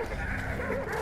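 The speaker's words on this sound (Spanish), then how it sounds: "¡Calla, perro!" A dog barking in the game Hunt: Showdown, a continuous muffled yapping over steady game background noise, moderately loud throughout the short stretch.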